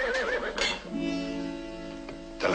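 A horse neighs outside at night, a loud drawn-out whinny with wavering pitch, then a second sharp whinny near the end, heard alone without speech.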